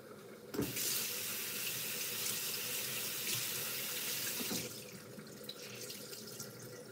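Homemade dumplings for a curry stew fish with butter beans are rinsed under a running kitchen tap, a loud close gush of water that starts abruptly and eases after a few seconds, with no talking.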